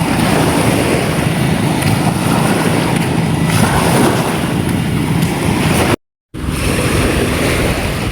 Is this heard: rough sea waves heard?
yes